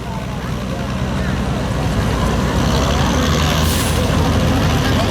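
Small-block modified 4x4 trucks straining under load at an evening power pull, a loud continuous engine roar with deep low rumble, steady and close throughout, a commentator's voice faintly mixed in.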